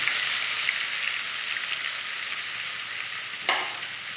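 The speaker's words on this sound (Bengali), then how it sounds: "আলুটা নামিয়ে আমি দিয়ে দেব এই কেটে রাখা পেঁয়াজ বেরেস্তা বানিয়ে নেব।" Sliced onions frying in hot oil for biryani birista, a continuous bright crackling sizzle heard up close, with one brief scrape of a spoon near the end and no speech.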